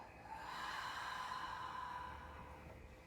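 A single long, slow exhale during a calm yoga session, soft and breathy, swelling then fading over about three seconds, close and quiet, with no talking.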